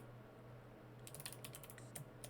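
Quiet keystrokes on a wireless computer keyboard begin about halfway through, a quick irregular run of light clicks over a steady low hum, with no talking.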